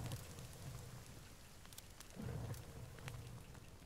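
Steady rain falls in the video game The Forest, a soft continuous hiss with low rumbling swells that may be distant thunder, fairly faint throughout with no talking.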